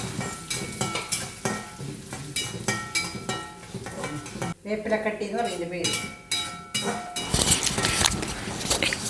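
Urad dal roasting in oil in a pan, with a crackling sizzle, repeated scraping and clinking of a metal spoon against the pan, and a brief pause partway through.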